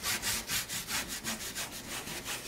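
A dry brush rubs paint onto a painted lemonade banner in quick, even back-and-forth strokes, a close, steady scratchy swishing heard alone without talk.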